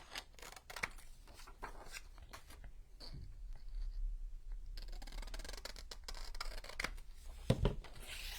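Large Tim Holtz craft scissors snip paper for a Halloween book nook wallpaper project, giving a run of close, crisp cutting clicks and rustles at an uneven pace.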